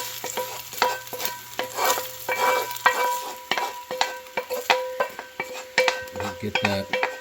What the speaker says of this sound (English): Eggs are nearly done. Just going to be a great time to add in the sausage.